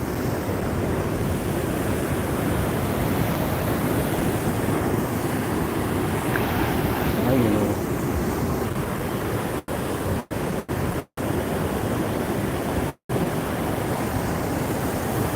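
Konkan sea waves crash and roar continuously below a coastal cliff, a loud, broad wash of surf with heavy wind buffeting the microphone throughout.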